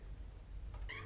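A single short cat meow, close and clear, rising near the end over low background rumble.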